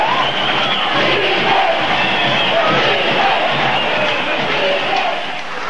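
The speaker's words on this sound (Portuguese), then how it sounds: "A festa da torcida, a vibração da galera." A football crowd celebrating a 1986 state championship win in a stadium, a loud, dense roar of many voices chanting and shouting together, continuous throughout.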